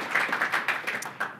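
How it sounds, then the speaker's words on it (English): Applause from an audience at a conference talk, a short burst of moderately loud claps at an irregular pace. "Big round of applause."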